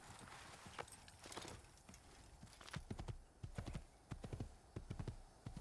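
Horse hooves clop in the video game Assassin's Creed, uneven clusters of hoof strikes that grow louder and more regular as the horse draws near.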